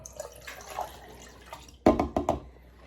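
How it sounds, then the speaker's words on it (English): Water pours into a Jetboil MiniMo stove pot while being measured out, a close, loud splashing burst in the second half after quieter handling sounds. "I'm going to measure out 300 ml of water"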